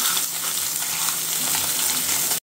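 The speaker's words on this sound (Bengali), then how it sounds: "মাছ এপিট কড়া করে ভাজা হয়ে গেছে, এখন উঠায়ে উল্টা পাল্টা করে খুব ভালো করে ওপিট ভেজে নিবে কড়া করে একদম" Fish frying crisp in a pan gives a loud, dense, continuous sizzle with faint scraping, close and unbroken, with no talking.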